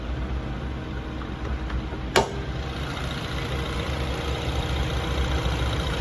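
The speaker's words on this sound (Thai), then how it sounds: "เครื่องเงียบนิ่ง" A Mazda2 1.5 Sport's engine idling quietly: a steady, low, even hum with one sharp click partway through, and no talking.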